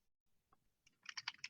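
Keys clack on a computer keyboard while a registration form is filled in, a few faint isolated taps followed by a quick, close run of keystrokes.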